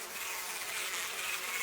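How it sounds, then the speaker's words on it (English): Steady, dense insect buzzing of a swarm of bees gathering on dripping liquid in the horror game Spirit Hunter: Death Mark, a continuous close hum with no gaps and no voices. "Bees are gathering on it."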